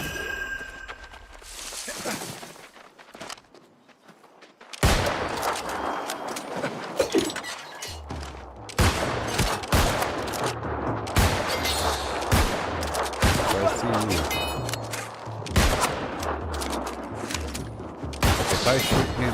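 Gunfire in the New World: Aeternum video game, loud repeated sharp shots and bursts in an irregular rhythm after a quieter opening, with some talk mixed in.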